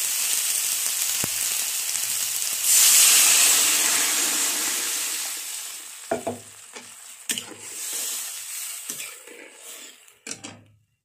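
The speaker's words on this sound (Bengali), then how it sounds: "ভেজে রাখা আলু দিয়ে দিলাম।" Fried potatoes go into a Bengali fenugreek-leaf fish curry, a steady hissing sizzle rising as they land, followed by scattered scraping and knocking of a spoon stirring in the pan.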